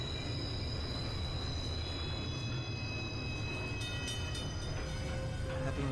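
A train passes in a TV show scene, a steady loud rolling rumble and rattle of railcars with high metallic wheel squeals and whines near the end, no talking heard.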